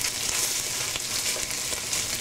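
Stir-fried lamb with reduced orange juice sizzling hard in a hot pan as rice wine is added, a loud, dense, unbroken frying hiss.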